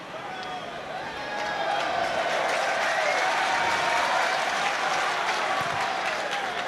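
Ulster rugby crowd at a home match against Cardiff Blues, a broad wash of applause and cheering that swells after the first second and holds steady and loud, with a faint commentary voice underneath.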